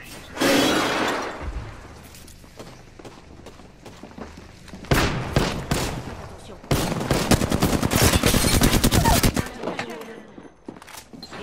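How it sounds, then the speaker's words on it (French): Automatic weapon fire and explosive impacts from the battle royale shooter Apex Legends, loud and close, coming in dense rapid bursts with breaking and shattering sounds, most sustained toward the end, with brief voice bits between. "J'ouvre le feu."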